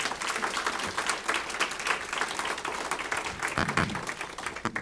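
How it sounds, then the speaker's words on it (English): An audience giving a round of applause at a university dedication ceremony, with dense continuous clapping from many hands at a moderate distance throughout. "Can you please give them a round of applause, please?"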